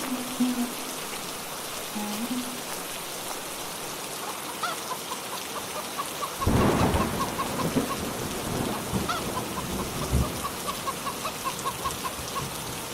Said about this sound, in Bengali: এই যা, বৃষ্টি যে শুরু হয়ে গেল